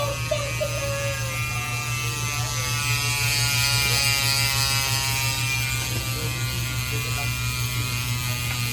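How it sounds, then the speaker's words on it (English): Rapid, continuous ratcheting clicks of a bicycle freehub spinning freely on a P1 race wheel, steady and close, over a constant low mechanical hum. "here comes the free body sound test on this P1 race wheel"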